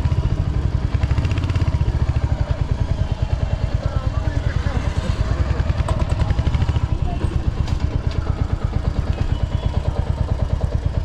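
A motorbike engine idles and putters steadily up close in a busy parking lot at the Uttarayani Kautik festival in Khatima, with voices talking over it throughout.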